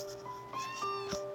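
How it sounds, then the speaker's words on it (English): A pet cat named Button, a medical rescue cat, gives a close, clear meow of about a second with rising and falling tone over a steady low background hum. "she's one of our medical cats that we got through catnap"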